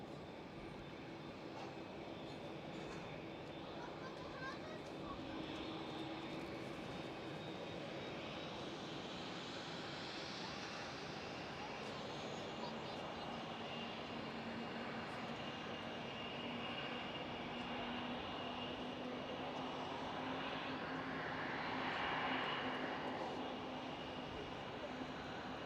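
An airliner taxis toward the departure runway at Schiphol airport, its jet engines holding a steady, distant rumble and whine that swells gently near the end, with no talk.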